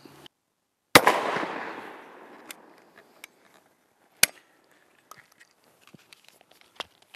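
A shotgun fires once at a cardboard target 25 yards away: a single sharp, loud blast with a rolling echo that fades over about a second, then sparse faint clicks and handling knocks in otherwise quiet surroundings.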